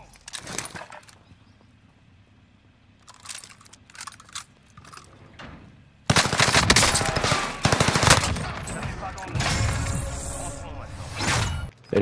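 Automatic weapon fire from the Warzone video game, with quiet clicking and talk at first, then sustained loud rapid bursts of gunfire through the second half.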